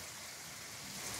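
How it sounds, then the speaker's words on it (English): Light morning rain falls on a summer garden with raised boxes, a soft, steady, faint hiss of drops with no other sounds. "it started raining real light this morning"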